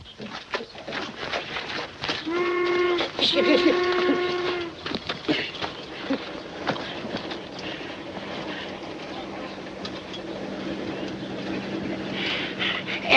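A mail train on the railway sounds a long, loud steam whistle in layered tones, then rolls on with a steady rumble and clatter of cars that fades into a continuous background drone.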